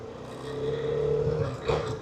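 A KTM 390 Adventure motorcycle engine pulls hard under acceleration, a steady droning engine note that swells and then flares briefly near the end, heard from close by with wind noise.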